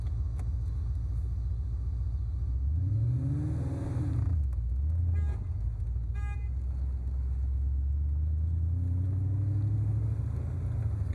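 A 1996 Mustang Cobra convertible pulling away and accelerating through the gears, its engine note rising and dropping with each shift, then settling into a steady close rumble from inside the car.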